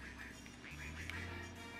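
A duck quacks in a Buzz Lightyear video game, a few short nasal quacks heard faintly against low game background sound.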